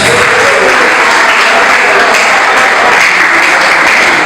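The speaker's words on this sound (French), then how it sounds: "Un peu d'applaudissement pour ça." Loud, close audience applause at a youth entrepreneurship finance event in Congo, continuous clapping from a crowd holding steady for several seconds with no voices on top.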